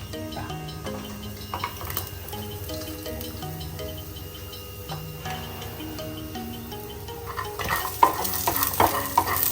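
Shallots and peanuts fry in a pan for a peanut chutney, a steady close sizzle running throughout, with stirring scrapes and clinks growing busier and louder toward the end; no one speaks.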